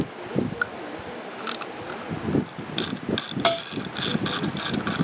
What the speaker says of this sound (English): So we'll go ahead and remove this bolt. It's a 10mm bolt.